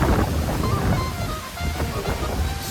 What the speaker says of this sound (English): right under this massive waterfall